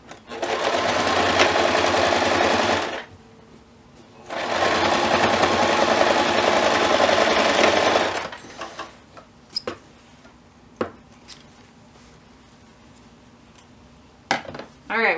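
Sewing machine stitching the seams of a fabric box pouch: two steady, loud whirring runs of a few seconds each, separated by a pause, then quiet handling clicks and rustles.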